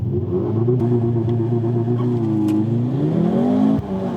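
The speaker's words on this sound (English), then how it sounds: "a 4-cylinder 2-liter electrified turbocharged engine, which makes 300 kilowatts and 500 newton meters" A 2023 Mercedes-AMG C43's 2.0-litre turbocharged four-cylinder mild-hybrid engine revs and accelerates, its tone climbing and dipping over a few seconds, loud and close with no talking.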